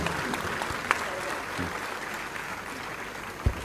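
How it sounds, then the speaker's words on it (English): Steady applause from an audience at a Nobel Prize series event at Punjab Agricultural University, Ludhiana, honouring two laureates; even, dense clapping fills the room at moderate loudness, with a couple of sharper knocks standing out. "let us put our hands together for a big round of applause to these two laureates"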